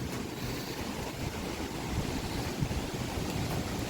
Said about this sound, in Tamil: சரியான காற்று, மழை